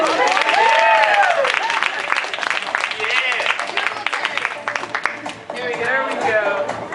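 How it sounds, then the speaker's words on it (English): An audience applauds at a fashion show, dense clapping running throughout while voices call out and talk over it, the clapping fading slightly toward the middle before picking up again. "You're supposed to be applauding."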